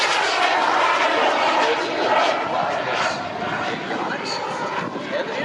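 A FoxJet sailplane fitted with a TJ100 jet engine flies past at an airshow, its engine roar swelling and fading at a distance while an announcer talks over the public address.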